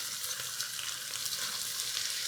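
Ground ginger and other spices sizzle in a hot pan as they're stirred, producing a steady, close frying crackle with no voices.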